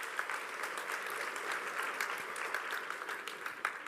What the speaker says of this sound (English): And I thought that deserves a huge round of applause.